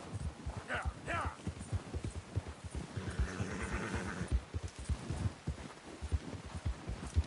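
Galloping horse hooves in a video game drum out a steady, rhythmic clip-clop close up, running the whole way under a voice talking.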